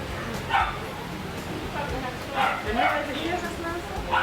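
A dog in a pet store gives several short yips and whimpering barks, spaced out and at moderate distance amid the shop's background murmur.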